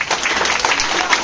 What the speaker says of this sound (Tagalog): Kulang pa palakpak niyo.